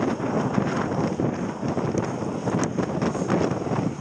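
A cold headwind roars across the microphone while cycling, a steady, dense rushing buffet with slight gusting swells, close and continuous, with no talking.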